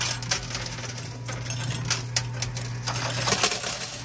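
Coins clatter and clink inside an arcade coin pusher machine, dropping in scattered bursts and quick runs of metallic taps over a constant low mechanical hum.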